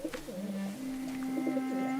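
Pigeons coo in soft, rolling low calls, near and clear, against a faint background with no talking.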